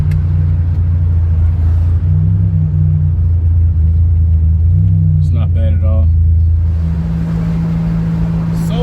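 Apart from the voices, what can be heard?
Buick Grand National car engine running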